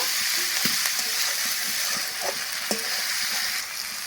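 Spices with ginger paste and tomato paste are sautéed in a pan for a pabda fish curry, giving a steady close sizzle broken by scraping stirs of a spatula.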